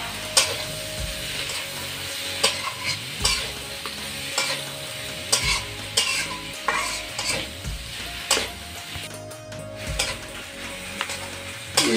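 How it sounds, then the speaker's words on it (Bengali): Taro stems sautéed with spices in a pan give a steady sizzle, with repeated scraping stir strokes of a spatula against the metal and occasional clinks, close and fairly loud with no voices. "এই যে কচুর ডাঁটাগুলো আমি এভাবে সবটার ভিতরে কষিয়ে নিয়েছি"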